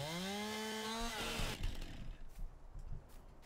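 A chainsaw cuts trees in Farming Simulator, its engine holding a loud, high whine before dropping into a rough, rattling cutting growl with scattered knocks.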